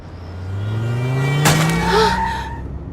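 A car driving fast on a rain-wet road skids: engine noise climbs steadily, then a sudden harsh screech of tires bursts in mid-clip and fades with a brief squealing tail, loud and close, with no voices.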